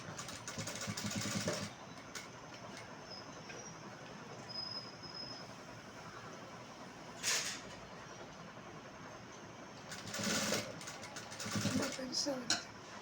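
A sewing machine stitches a blouse in two short whirring bursts, one at the start and one near the end, close and fairly loud, with someone talking between them.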